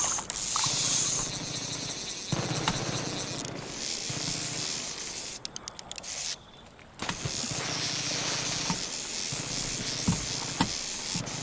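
A fishing reel ratchets and whirs steadily in Far Cry 5, mechanical clicking mixed with hissing water and game ambience, broken by a brief dropout partway through.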